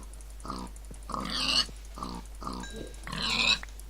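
A pig in a video game grunts and oinks in a series of short, close, loud snorting bursts, with brief pauses between them.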